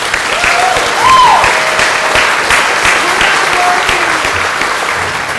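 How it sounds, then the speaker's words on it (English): Loud, sustained applause from an audience at a Chamber of Commerce annual meeting, with a few tonal whistles or murmurs rising above the clapping. "So again, round of applause for these folks."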